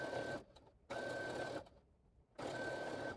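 A sewing machine stitches black quilt strips in steady mechanical runs, with two brief pauses between bursts of close, continuous whirring.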